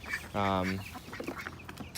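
A chicken gives a short, loud cluck close by in an urban backyard garden, with soft scattered clucking and other faint farmyard noise around it.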